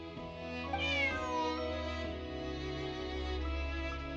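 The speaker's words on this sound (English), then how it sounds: "Bonnie is Pierre's cat" A cat in the Genshin Impact video game lets out a long, drawn-out meow that bends in pitch, clear and close over a low steady background.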